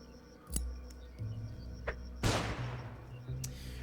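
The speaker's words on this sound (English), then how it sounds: "We'll throw that flashbang." A flashbang grenade goes off in the video game Underrail: one loud, sharp burst with a long hissing decay, following a few quieter clicks and thuds of game effects.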